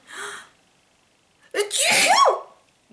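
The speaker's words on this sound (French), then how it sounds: "Là, je vais éternuer." After a short intake of breath and a pause, a single loud sneeze bursts out close to the microphone.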